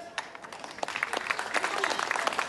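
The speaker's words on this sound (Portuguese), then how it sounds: "Palmas para a Mariana" An audience applauds a pair of performers at an outdoor event in Ponta Delgada, São Miguel, Azores: scattered claps first, then swelling into fuller, steady clapping.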